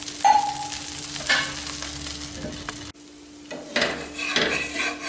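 Beetroot dosa batter, with coriander, mint and curry leaves, sizzling and frying on a hot griddle: a steady close crackle with a few scraping, stirring and utensil taps, and a short quieter dip midway.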